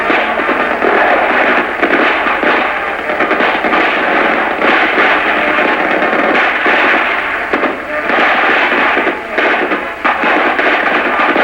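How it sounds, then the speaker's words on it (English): Rifle squad gunfire in a 1975 army training film on dismounted movement: dense, continuous loud volleys of rifle and machine-gun fire crackle without pause, with a few surges in intensity. "Team Bravo opens fire."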